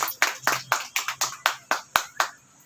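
Hands clap in a slow, steady beat of about ten separate, crisp claps, fairly close, as an audience welcomes Mr. Ritesh Singh, with no voices over them.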